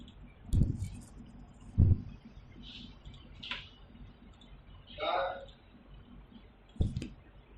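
Computer mouse clicks while operating Mastercam milling software, a handful of sharp separate clicks spaced a second or more apart, close and fairly clear against a quiet room.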